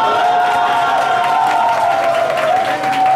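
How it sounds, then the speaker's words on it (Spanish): A studio audience at a televised dance competition applauds and cheers in a loud, sustained wash of clapping and crowd noise. "Así que suenan los aplausos para la señorita Ángela Sullivan y La Soberana."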